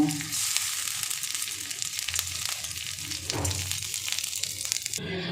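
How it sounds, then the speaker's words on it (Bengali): Gobindobhog rice frying lightly in ghee, a steady close sizzle with scraping and stirring throughout, briefly shifting near the end. "এবার আমি এই ঘিটার মধ্যে একটু ভেজে নেব একদম কালার চেঞ্জ হবে না একদম হালকা করে একটু নেড়ে নেব"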